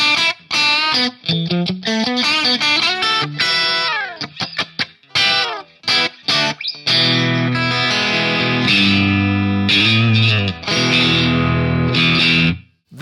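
An Ibanez SEW761FM electric guitar on pickup position 2 with drive plays distorted, effects-laden phrases, mixing quick runs, bends and choppy stabs with sustained ringing chords, loud and close with no talking.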